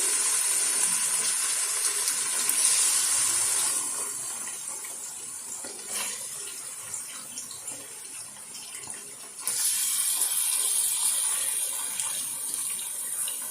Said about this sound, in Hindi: अब मैं इसमें मेरे पास 3 पाव चिकन है। ये मैं चिकन आपके सामने डाल रही हूँ।